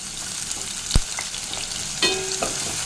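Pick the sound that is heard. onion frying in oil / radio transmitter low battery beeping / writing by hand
onion frying in oil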